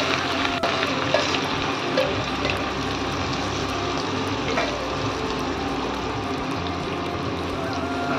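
Kolhapuri red chili thecha frying in hot oil with mustard seeds, giving a steady, dense sizzle and crackle that stays loud and even throughout, with no talking.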